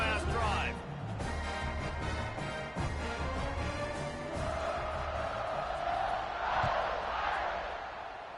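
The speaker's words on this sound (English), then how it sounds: "this crowd is feeling themselves after that last drive" A football stadium crowd roars steadily after a scoring drive, a dense, sustained wall of cheering that swells near the end, with a commentator talking over it throughout.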